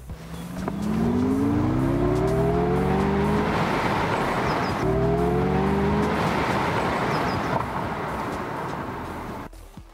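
An MG Cyberster sports car accelerates hard through its gears, engine pitch climbing in long rising sweeps, loud and close with road noise throughout.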